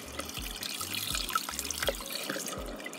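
A small electric pump in an Arduino-built dog water bowl refill setup sprays and trickles water, a faint watery hiss over a low, pulsing motor hum, heard close with no talk.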